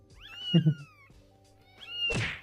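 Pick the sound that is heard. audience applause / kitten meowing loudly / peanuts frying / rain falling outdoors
kitten meowing loudly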